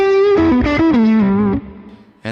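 Electric guitar lead tone played through a G3 Atom switcher pedalboard: a distorted, effects-laden melodic line of sustained bent notes, loud and close, fading out in a ringing tail near the end.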